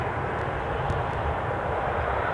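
A Jet2 airliner on final approach to Newcastle airport gives a steady, broad engine roar at moderate distance, continuous and without talk.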